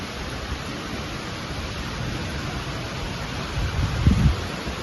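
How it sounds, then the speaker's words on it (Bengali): Heavy rain falls outdoors as a soft, steady broadband hiss, with a brief low thump near the end. No voices. "বৃষ্টি চলে আসলো।"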